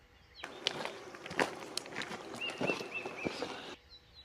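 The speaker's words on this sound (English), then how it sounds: "I hear the footsteps getting louder." Footsteps of people shuffle and crunch at a steady, uneven pace, drawing closer amid outdoor ambience in Santa Fe, New Mexico, with a bird chirping faintly in the background.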